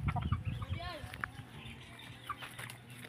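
Chickens cluck and squawk nearby during a harvest, brief busy bursts of fowl calls over background murmur with voices faintly talking.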